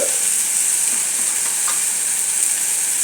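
Chili powder and coriander powder masala sizzle steadily in a pan, a close, even hiss with faint stirring scrapes, continuous and unbroken, with no talk.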